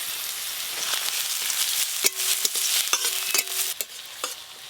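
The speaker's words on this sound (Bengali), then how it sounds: "তেল গরম হয়ে গেছে, প্রথমে পেঁয়াজ কুচি দিয়ে দেব, রসুন কুচি, আদা কুচি।" Chopped onion, garlic and ginger fry in hot mustard oil in a wok, a bright steady sizzle with repeated scraping stirs and sharp spatula clacks up close.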